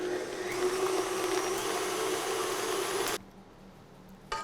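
An electric mixer whirring steadily as it beats frosting with almond and vanilla bean, a constant close motor hum for about three seconds before cutting off abruptly into near silence.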